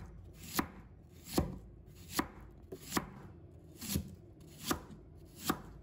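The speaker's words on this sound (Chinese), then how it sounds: "再把它切成细丝。" A knife slicing half an onion into thin strips on a cutting board: about eight crisp, evenly spaced cuts in a steady rhythm, close and clear with no talking.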